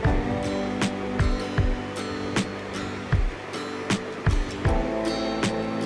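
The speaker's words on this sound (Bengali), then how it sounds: "এবার আমি কড়াইতে তেল গরম হয়েছে, আমি এখানে রুই মাছ নিয়েছি। রুই মাছটা আমি হালকা করে ভেজে নেব।" Rohu fish frying in hot oil in a wok gives a steady, hissing sizzle broken by sharp spattering pops throughout, close up over a low hum.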